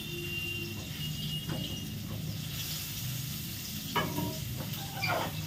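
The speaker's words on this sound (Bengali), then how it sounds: "কম আঁচ করে রেখেছি, কম আঁচেই একটু উল্টে পাল্টে পেটিগুলোকে ভেজে নেব।" Catla fish belly pieces fry in a little oil in a non-stick pan over low heat, a steady close sizzle with a few louder scraping stirs near the end.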